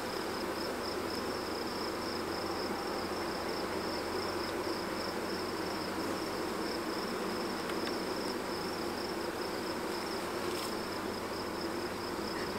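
Honey bees being moved out of a swarm trap give off a steady, dense buzzing hum that runs unbroken throughout, close and moderately loud, with no voices.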